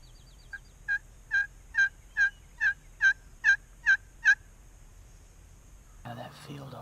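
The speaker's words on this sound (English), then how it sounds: "Turkeys are just on the other side." Roosted wild turkeys gobble across a field in Tennessee, a rapid run of about nine clear rattling calls over a low hum, followed by a brief burst of rustling noise at the end.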